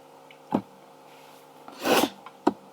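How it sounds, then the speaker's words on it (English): A single person's sneeze, a sharp broad burst near the middle of the clip, set among a few shorter breathy snorts and rustles close to the microphone, with no talking. "Sorry about that was me sneezing."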